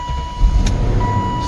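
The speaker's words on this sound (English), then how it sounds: "let me go turn the car on" A BMW car with a head gasket fault cranks and turns over, a low mechanical churning with a brief whir partway through, close and steady with no speech.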